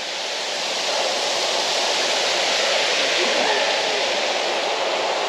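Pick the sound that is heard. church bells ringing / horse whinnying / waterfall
waterfall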